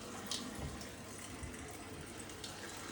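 Water drains out of Ecosoft drinking-water filter housings, a soft, steady trickle and wash that stays faint and even throughout.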